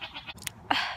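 Goats on a farm bleat close by, a couple of short nasal cries with a louder one at the end, fairly quiet overall.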